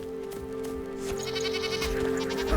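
Goats bleating in the video game Enshrouded, a few short wavering calls at mid distance over a steady droning game ambience, growing slightly louder toward the end.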